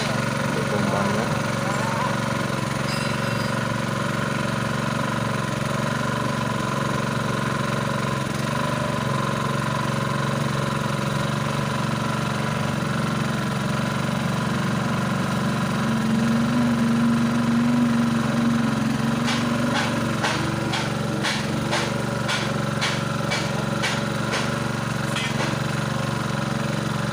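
A small engine driving a water pump for manual well drilling drones steadily and loudly outdoors throughout, with voices talking over it and a brief pitch change near the middle.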